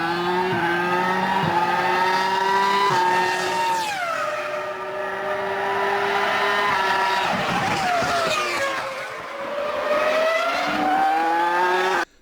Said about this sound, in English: Something like a Grand Prix car accelerating.